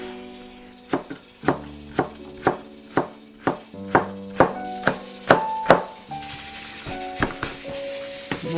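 Knife chopping the shells of salted fermented clams on a cutting board, a steady run of about fifteen sharp, close knocks, faster in the middle and spreading out toward the end.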